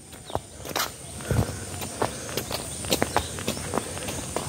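Footsteps tread along a quiet jungle trail in Bandarban, a steady sequence of close crunching steps on the path under a soft, hissing background.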